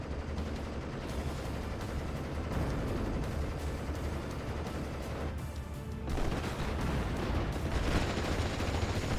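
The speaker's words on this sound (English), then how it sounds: "We got these small bombs hitting the MG32, 34." Small bombs bursting in a WWII strategy game battle, a steady rumbling barrage of close blasts and gunfire layered together, with a heavier cluster of impacts near the end.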